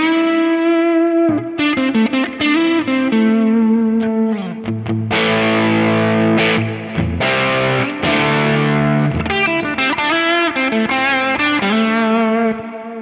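An overdrive pedal capture on a Quad Cortex, set to gain 4 with the high cut off, drives a distorted electric guitar through loud, sustained chords and sharp strummed hits with bright, crunchy top end, played alone without talking.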